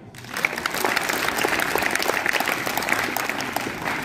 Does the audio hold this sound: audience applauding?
yes